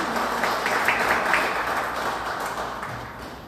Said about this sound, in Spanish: Un fuerte aplauso para la conferencista y para la regidora